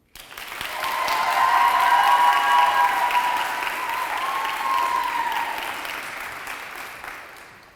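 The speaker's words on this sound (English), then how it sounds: "so let's hear it for the Sara McLean Ottinger" Sustained audience applause at a senior speech event, a dense wash of clapping that swells quickly, holds loud for several seconds, then tapers gradually toward the end.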